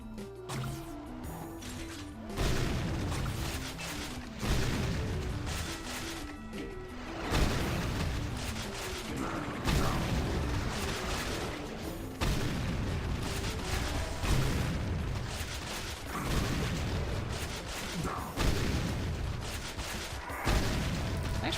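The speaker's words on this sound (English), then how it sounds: "For some reason, the blue dynamite can hurt you." Blue dynamite and other weapons in the Doom mod Back to Saturn X go off as a steady run of booming blasts and gunfire, loud and repeated every couple of seconds, with no talking.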